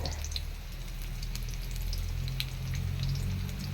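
Onion and garlic frying in a pan, a steady close sizzle with small crackles and pops throughout, no talk over it.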